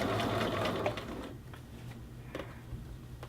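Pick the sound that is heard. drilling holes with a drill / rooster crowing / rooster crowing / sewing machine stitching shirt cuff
sewing machine stitching shirt cuff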